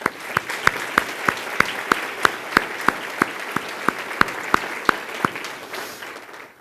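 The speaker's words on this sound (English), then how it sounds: "Let's give them a round of applause." An audience at a mayor's State of the City address in Westland claps steadily, with a few louder individual claps standing out in an irregular rhythm before the applause slowly fades.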